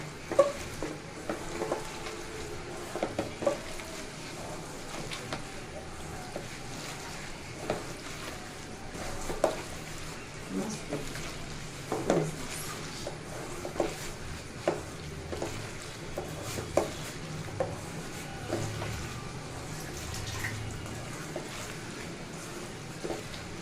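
Small mola fish being mixed by hand with cooking oil and spices for a Bengali chorchori, giving soft intermittent squelching and scraping with a faint sizzle-like hiss, quiet and close, sporadic pats and stirs over the whole stretch.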